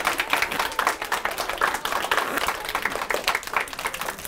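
A small library audience at a magic workshop claps briefly after a card trick, scattered hand claps over a murmur of voices, with someone talking over them.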